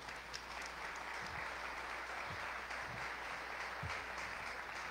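Applause from a church audience at a Good Friday gathering, a faint, steady wash of clapping heard from a distance with no voices over it.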